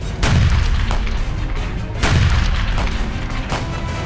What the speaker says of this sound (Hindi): आतंकियों के पनाहगाह से गोलियां सीधे फौज पर बरसने लगी